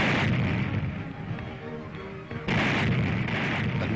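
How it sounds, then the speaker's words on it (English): A Royal Navy corvette's depth charges explode underwater against U-boats during a wartime convoy. Deep, roaring booms fill the clip, with one long loud surge, a short dip, then a second heavy blast that carries on to the end. "the vast explosions of her depth charges seal the fate of any U-boat in the vicinity"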